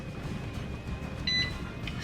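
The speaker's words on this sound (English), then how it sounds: "it'll start beeping like this." An electric pressure canner signals it is ready with a short electronic beep partway through, set over a steady kitchen background hum.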